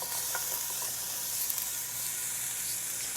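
Peppers sizzle steadily in a hot pan, a dense, continuous frying hiss close by with faint scattered crackles and no voices.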